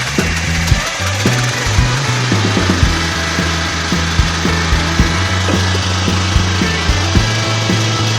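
An Endress 6000 generator runs steadily close by after starting, its low engine drone continuous with a rough, rattling mechanical texture and recurring uneven knocks, no voices over it.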